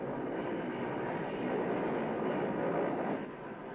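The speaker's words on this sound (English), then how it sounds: "an Mi-24 threshes past well within range" A Soviet Mi-24 helicopter passes within range, giving a steady, broad roar of rotor and engine noise that swells slightly near the end before easing off.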